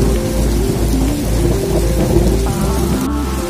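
Heavy rain and hail pour steadily during an outdoor thunderstorm on a cycling tour, with low rumbling thunder rolling underneath throughout, loud and close with no talking.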